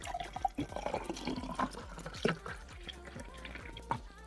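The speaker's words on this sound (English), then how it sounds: "that is water being poured out of my pitcher" Water poured out of a pitcher indoors, a soft gurgling, splashing stream with bubbly glugs over a few seconds, quiet and close, with no talking.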